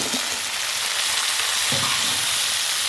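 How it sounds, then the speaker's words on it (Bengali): Potatoes and fried onions sizzle in a pan with a steady, loud crackle, broken by a couple of scraping stirs, heard up close with no talking. "কেটে রাখা আলুগুলো দিয়ে একটু ভালো করে নাড়াচাড়া করে ভাজবো"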